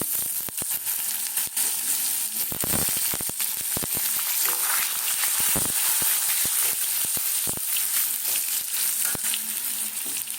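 Potatoes frying in hot oil for a vegetarian vegetable dish, a steady close sizzle and hiss with scattered sharp crackles and stirring clatters throughout.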